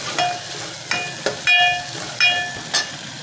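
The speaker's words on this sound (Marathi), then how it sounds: "आता आपली मिरची चांगली परतायची." Green chilies sizzle as they are sautéed in a pan, a steady hiss broken by several sharp spitting bursts in uneven rhythm, close and fairly loud, with no talking.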